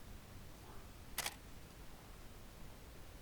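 A single crisp click of an SLR camera shutter firing with a filter fitted sounds once, brief and close, against a quiet background hiss.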